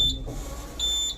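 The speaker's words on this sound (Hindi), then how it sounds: "यहाँ पे आप जैसे दबा दोगे ना यहाँ पे, ये अलार्म बज जाएगा नीचे" Elevator alarm bell rung by pressing the alarm button, giving brief electronic beeps at the start and again near the end over a low hum.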